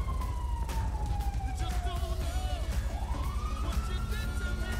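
A fire engine siren from GTA V wails in long, gliding tones, rising and falling and sounding fairly close over a dense, continuous background rumble.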